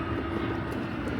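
An airplane passes over a quiet village close to an airport in Xishuangbanna, a loud, steady, rumbling engine drone filling the brief moment with no voices.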